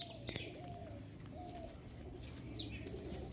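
A female pigeon is released by hand and flaps its wings in quick bursts, with soft coos and faint chirps around it and a murmur of voices in the background.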